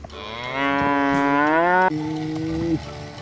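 A mother water buffalo (kerbau) lets out two loud, close moos: a long drawn-out call that slides upward, then a shorter, lower one, with no voices over them.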